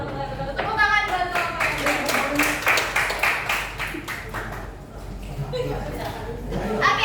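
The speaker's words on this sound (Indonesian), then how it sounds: "Tepuk tangan buat" Students clapping in a classroom for a group after its presentation, a burst of many hands clapping loud and close for several seconds, with chatter and a teacher's voice around it.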